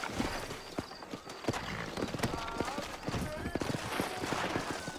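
Horse hooves galloping on a dusty frontier trail in the video game Red Dead Redemption, a steady, dense clip-clop rhythm close up, mixed with faint voices and other game sounds.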